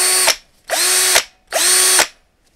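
A Topshak TS-ED3 cordless drill running in second speed gives three loud, even whirring bursts of about half a second each, separated by short silent gaps, with no voices.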